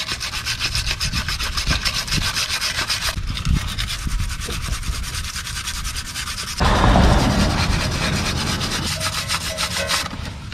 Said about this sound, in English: But we're just gonna get our wire brush in here like this,